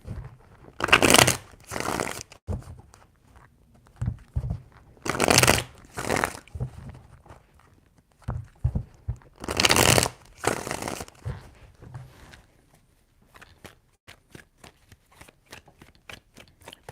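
Tarot cards are shuffled in three distinct riffling bursts spaced a few seconds apart, followed by lighter scattered handling clicks; close and crisp, with no speech over them.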